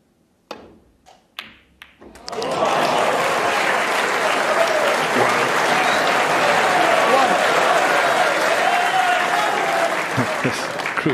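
The Crucible snooker crowd bursts into sustained, loud applause after a few sharp ball knocks, the clapping swelling and holding steady before thinning at the end.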